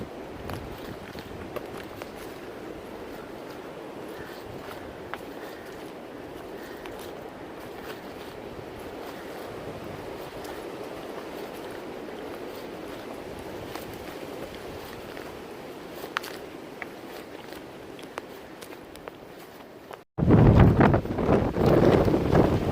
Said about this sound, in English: I thought that wind coming through there was pretty impressive.